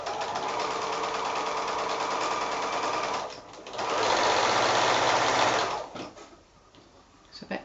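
A sewing machine chain piecing quilt squares runs in fast, steady bursts of stitching, loud and close, pausing briefly partway and then stopping toward the end.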